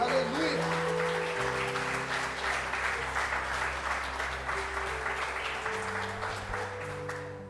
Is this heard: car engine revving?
no